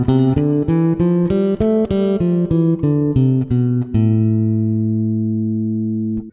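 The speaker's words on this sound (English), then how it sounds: "natural minor" Natural minor scale on a piccolo bass, a quick run of roughly ten plucked notes in a high register, ending on a long held final note that rings out and slowly fades, played solo and close.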